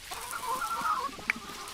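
Chickens cluck in the farming video game Dinkum, a short run of soft, close clucks followed by one sharper squawk, with no talking.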